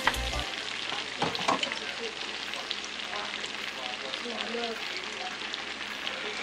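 A steak sears in an oiled pan, giving a steady, close broadband sizzle with a brief clatter near the start, continuous and loud without speech.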